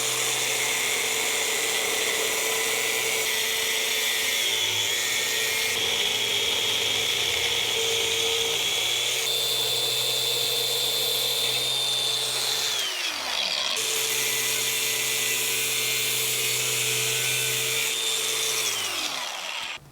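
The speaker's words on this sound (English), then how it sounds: "start grinding away this part, this shaded area, and grind it all the way back to this 1 inch line" A power grinder or cutting tool works a steel steering column shaft down to a double-D shape during a tilt column install, a steady high whine with gear-like ratcheting that dips and restarts near the thirteen-second mark, with no talking.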